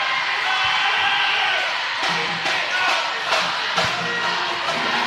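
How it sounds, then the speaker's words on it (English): Lively crowd cheering and whooping in a high school volleyball gym, a dense, loud roar with occasional sharp slams and shouts standing out. "Lively crowd here."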